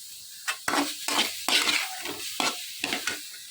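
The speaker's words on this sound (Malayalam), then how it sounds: "നമുക്ക് ഈ തേങ്ങ ഇട്ട് കൊടുക്കാം കേട്ടോ തേങ്ങ നന്നായി ചൂടാക്കാം" Grated coconut roasts in a pan while a spoon stirs it, with repeated close scraping strokes at an uneven rhythm over a light sizzle and no talk.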